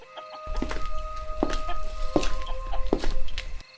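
Several short clucks from a cartoon chicken over a steady low background hum, with a faint sustained tone running underneath.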